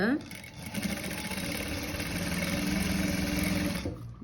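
An electric sewing machine runs steadily, stitching the sleeve of a model gown with a tacking seam, a close, even mechanical whir that holds for about four seconds without a break.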